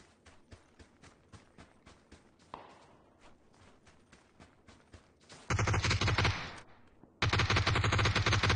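Rapid bursts of video-game gunfire crackle in quick repeated shots, then give way to two long, loud sustained volleys of automatic fire toward the end.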